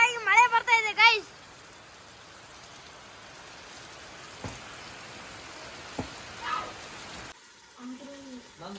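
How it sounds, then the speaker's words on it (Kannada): Heavy rain falls in a constant, even hiss that fills the whole stretch, while a voice is heard briefly at the beginning and again near the end. "ಈ ಕಡೆ ನೋಡಿ ಜೋರಾಗಿ ಮಳೆ ಬರ್ತಾ ಇದೆ"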